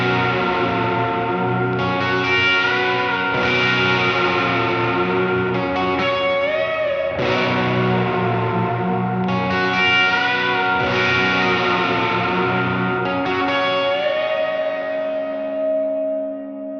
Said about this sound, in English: what I'm doing is I'm bending notes behind the bridge